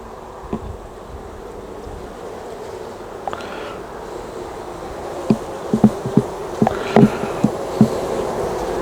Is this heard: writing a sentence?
no